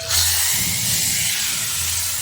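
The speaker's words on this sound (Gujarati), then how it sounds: "આ કઢી ડોય છે ને એમાં આપણે આ વઘાર કરીને નાખી દઈશું" Steady hiss of hot tempering with red chilli powder hitting kadhi, a continuous sizzle that holds loud and even for a couple of seconds with no voices.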